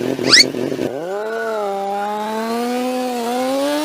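A cartoon motorbike engine sputters and then settles into a steady, buzzing tonal whine as it is ridden, rising slightly and holding close and loud to the end.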